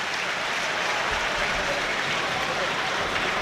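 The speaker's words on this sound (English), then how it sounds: "And Tsimikas takes the applause of the Kop as he walks over to this near side" Steady, dense applause from a large stadium crowd at Anfield's Kop during a Liverpool versus Lille Champions League football match, a continuous wash of clapping filling the space with no pauses.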